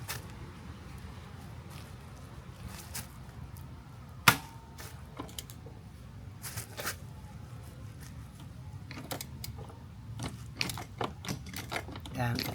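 A wrench works a rear suspension bolt on a Honda NC700X, giving scattered metallic clicks and ratcheting ticks with a sharp snap partway through, over a quiet background.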